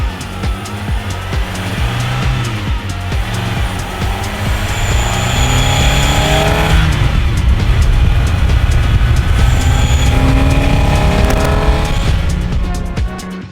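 A Renault 5 fitted with a Clio 1.8 16V engine, originally 136 hp, revs loudly and close by, a steady roaring drone that rises and swells throughout with shifting engine tones.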